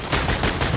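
A pistol fires rapidly in a shooter video game, with several sharp shots in a quick burst that sound close and loud, and no talking.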